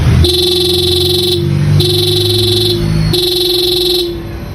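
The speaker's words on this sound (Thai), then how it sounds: "คือเสียงแตรนะครับ ถ้ากดแล้วมันจะดังแบบนี้ครับ" A Honda PCX160 motorcycle horn gives three sustained, buzzy honks of about a second each, loud and close, with short gaps between them over a steady engine hum.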